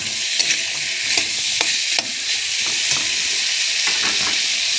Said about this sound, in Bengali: কাটা আলু দিয়ে দিচ্ছি, সঙ্গে আমি পরিমাণ মতো লবণ দিয়ে দিলাম, আবার একটু কষিয়ে নেব।